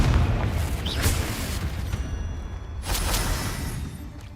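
A Confringo fire spell goes off in Hogwarts Legacy with a deep rumbling boom, followed by a second blast near the three-second mark, both loud and close over a low, continuous roar.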